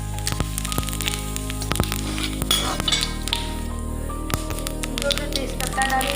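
Steady crackling sizzle of cumin seeds frying in hot oil for matar paneer, with a few metallic clinks and scrapes from a utensil.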